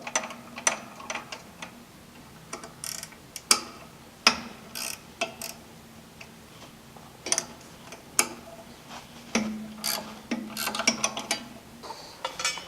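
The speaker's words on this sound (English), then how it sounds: "we use a 1/2-inch wrench and remove the bolts" Bolts being removed with a 1/2-inch wrench during a Hold-Tite shoe replacement: quiet, irregular metallic ticks and ratcheting clicks, close by, with short bursts and pauses.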